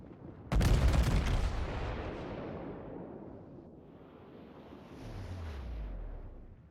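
A loud naval gun blast in World of Warships rolls into a long fading rumble, followed later by a lower, duller boom from shells striking.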